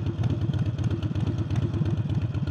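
Harley-Davidson 48 motorcycle with a new air intake, engine running loud and close while riding, a steady deep throbbing rumble with rapid regular pulses throughout.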